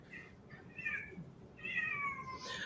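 A house cat meows twice in drawn-out, rising and falling cries, the second longer and louder, heard at moderate distance against quiet room noise.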